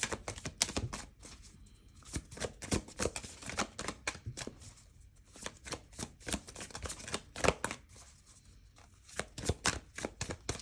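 Tarot cards being shuffled and pulled, a rapid, irregular run of close, dry papery clicks and riffles that continues throughout.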